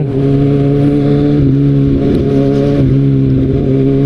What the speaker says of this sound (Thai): รถผมถือว่าเสียงดังนะ เสียงเสียงดัง